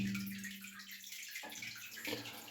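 Water seeping into a flooded cellar, a soft continuous trickling and gurgling wash heard close but quietly, with no voices over it.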